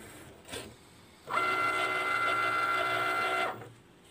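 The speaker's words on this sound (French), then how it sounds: "machine s'est automatiquement mise à découper les traits verticaux et les traits horizontaux" A Cricut cutting machine runs a print-and-cut calibration, cutting vertical and horizontal lines: a steady motorized whir with a high tone lasts about two seconds after a brief click, then stops, with no talk.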